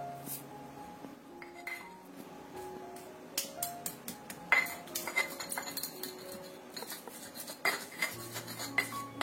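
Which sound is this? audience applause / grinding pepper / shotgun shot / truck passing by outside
grinding pepper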